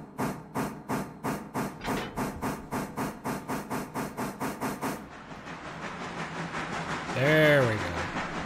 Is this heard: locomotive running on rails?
yes